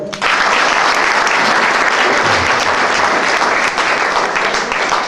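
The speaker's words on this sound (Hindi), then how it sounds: "तो ये 2 बंदों के लिए तालियां हो जाए" Loud, dense applause from a seminar audience for two volunteers, a continuous close roar of many hands clapping that starts abruptly and holds steady throughout.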